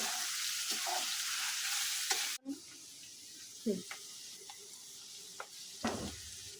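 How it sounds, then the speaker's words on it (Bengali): Onions, garlic and potato fry in a pan with a faint steady sizzle, broken by a few soft stirring scrapes and clicks, heard at a distance and fairly quiet. "এটাতে ফ্রাই করে নেবেন যতক্ষণ পেঁয়াজগুলো এবং রসুনগুলো বাদামি না হচ্ছে, ততক্ষণ আলুটাও হয়ে যাবে।"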